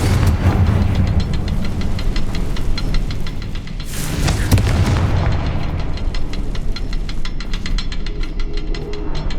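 Confringo blasting spell going off in Hogwarts Legacy on PS5: a dense, loud wash of game sound with a sharp explosive burst about midway, surrounded by continuous rumbling and crackling effects.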